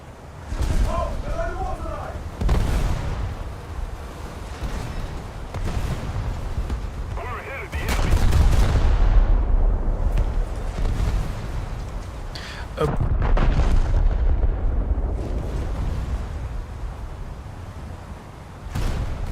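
Heavy naval turret guns of the warship HMS Queen Mary fire in a sea battle, sending deep booming blasts at irregular intervals, each followed by a long rumbling tail, with someone talking between the shots.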